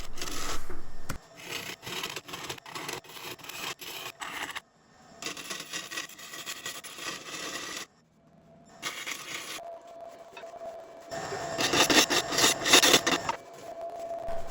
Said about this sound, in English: I tried a variety of tools to hollow out the inside of this bowl.